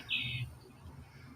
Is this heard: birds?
yes